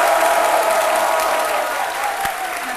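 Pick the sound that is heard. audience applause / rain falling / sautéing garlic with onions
audience applause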